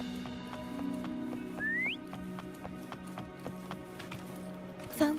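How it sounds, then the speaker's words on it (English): Short rising whistle in the game Wuthering Waves, calling the horse Foam; a single upward-sliding tone lasting about half a second over a steady backdrop of game ambience and soft ticking. "Try whistling."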